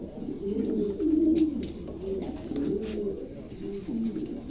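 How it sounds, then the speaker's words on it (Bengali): Large pigeons in a breeder's loft coo steadily in low, throaty, overlapping calls, close and fairly loud, with no talking. "দানবের মতন সাইজ এক একটা কবুতর বিশাল বড় কোয়ালিটি"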